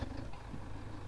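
A tractor engine idles in Farming Simulator 2017, a low steady rumble that is quiet and even throughout with no talking.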